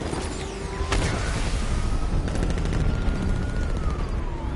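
Gunfire in Batman Arkham Knight, bursts of rapid shots with rumbling booms amid continuous loud game noise, steady through the whole stretch.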